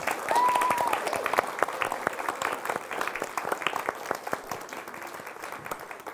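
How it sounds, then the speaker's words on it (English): Applause from a seated congregation, starting as a dense burst of many hands and thinning into irregular, individual claps that fade toward the end. "Let's give them a round of applause."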